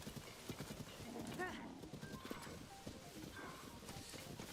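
Hooves clip-clop steadily from a horse in The Legend of Zelda: Tears of the Kingdom, with a short neigh partway through, all under game music and background sounds.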